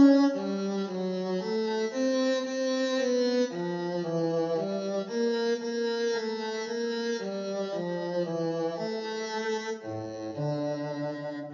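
Bach cantata continuo line played back in MuseScore as a synthesized cello solo with phrasing articulation, notes grouped into shaped, connected runs rather than evenly separated, heard alone and clearly throughout.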